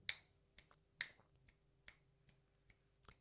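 Finger snaps behind a FIFINE K658 USB dynamic microphone, about seven crisp, fairly quiet clicks at uneven intervals over a soft steady hum, with no voices.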